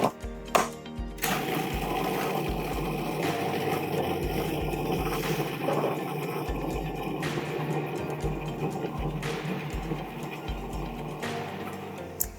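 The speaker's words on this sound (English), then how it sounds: "to make sure it all gets blended up" A blender whirs through a bruschetta topping with a steady, close motor drone and a rhythmic low thumping as the mixture churns, running continuously for about twelve seconds.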